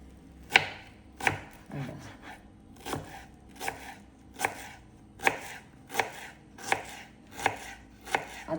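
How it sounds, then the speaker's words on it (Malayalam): Raw mango is finely chopped with a knife on a board, about a dozen crisp, evenly spaced chops in a steady rhythm, close and clear with no voices. "ഞാനതൊന്നും ഇല്ലാത്തതുകൊണ്ട് കുരുകുരാന്ന് അരിഞ്ഞെടുത്തിട്ട് ഇതങ്ങനെ ഇടാം"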